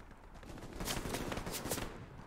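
Bursts of distant gunfire from a World War II battlefield in the game Hell Let Loose, a quick volley of several cracks over roughly two seconds, fairly faint and dull.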